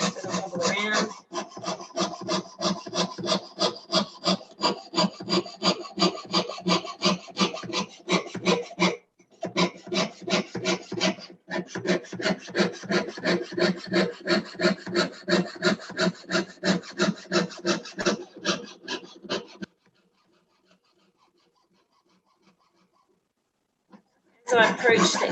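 A small saw rasps through a silver sheet along a scribed line during ring making, a steady run of quick, evenly spaced strokes that pauses briefly and slows toward the end, dropping to near silence before resuming.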